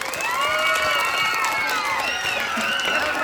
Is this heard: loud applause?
yes